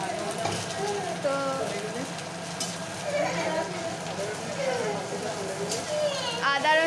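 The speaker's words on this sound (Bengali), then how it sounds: "এখানে পেঁয়াজটা লাল হয়ে গেছে আর আদা রসুন পেস্ট দিয়ে দেওয়া হচ্ছে" Ginger garlic paste sizzles and fries with browned onions in a pan for a mutton dish, a steady crackling hiss with occasional stirring, while a person talks over it throughout.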